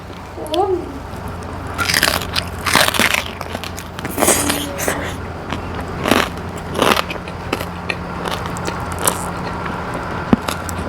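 Someone eats crispy fried pork with spicy papaya salad, producing repeated close crunchy bites and chewing bursts at an irregular pace, with quiet talk in between.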